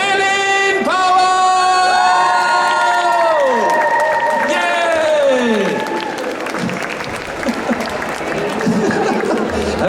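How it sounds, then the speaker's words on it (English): Convention audience at Comic Con Brussels applauds and cheers for Eline Powell: loud, sustained clapping with whoops, under a bright, wavering musical tone, settling into a broad crowd wash with scattered voices. "Give your love and a loud applause, Eline Powell!"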